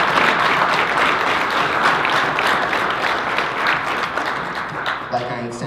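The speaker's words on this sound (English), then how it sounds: "So they all deserve a round of applause." An audience at a school board meeting claps steadily for students in a dense, sustained round of applause lasting several seconds, fading slightly as a voice begins speaking at the end.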